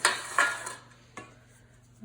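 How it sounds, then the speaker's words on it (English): Vanilla layer cake batter scraped around a mixing bowl: a few quick, close scrapes and clinks, then a quieter stretch and a final short scrape. "I'm gonna make sure I give this a good scrape."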